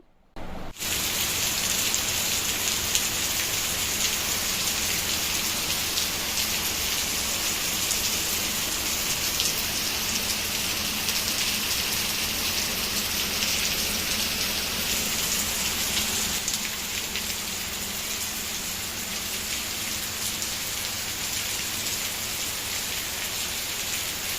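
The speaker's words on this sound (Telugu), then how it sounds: "మీకు వర్షం సౌండ్ ఎందుకు వినిపించానో తెలుసా" Steady, heavy rain pours down without pause, a dense hiss of drops striking surfaces nearby.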